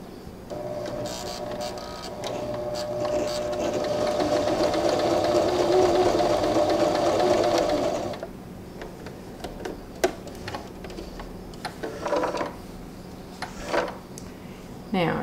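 A Janome Arctic Crystal sewing machine stitches zigzag, its needle running in a fast, even mechanical whir for about eight seconds at close range, then stopping and leaving scattered clicks and handling noises.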